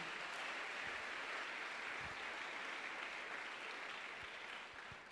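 A crowd applauds a woman at a Congolese gathering, with steady, dense clapping sustained throughout and a few louder claps standing out before it fades slightly near the end.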